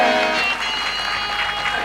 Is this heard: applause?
yes